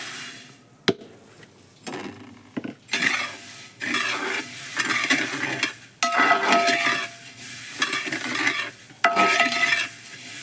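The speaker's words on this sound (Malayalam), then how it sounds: "ആ നെയ് വറുത്ത നെയ്ക്കകത്തേക്ക് ഇട്ടിട്ട് ഒന്നങ്ങ് ചൂടാക്കി എടുക്കാൻ പോകണം കേട്ടോ" Roasted vermicelli stirred in hot ghee in a pan for Kerala semiya payasam, with repeated scraping strokes of a metal spoon and a light sizzle in uneven bursts, close by and with no talk.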